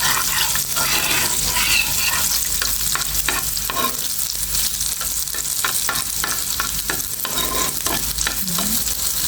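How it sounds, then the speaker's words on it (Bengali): Garlic frying to a deep red in a pan for spinach and potato bhaji, a steady loud sizzle running throughout with repeated scraping stir strokes. "রসুনটা কিন্তু একদম লাল করে ভেজে নিয়েছি"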